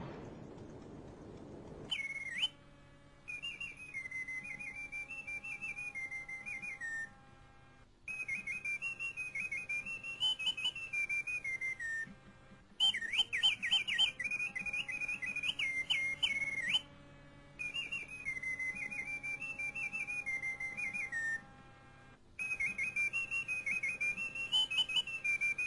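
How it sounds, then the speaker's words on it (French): A mechanical singing hummingbird automaton inside a pistol, its song driven by a small bellows in the grip, warbles in repeated whistled trilling phrases separated by short pauses, with a faint mechanical whir beneath and no talking. "La poignée du pistolet contient un petit soufflet qui alimente en air le chant du colibri."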